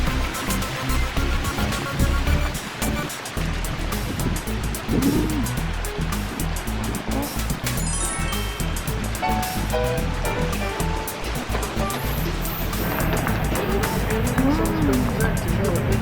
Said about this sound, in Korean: 오늘 바람이 너무 많이 부네.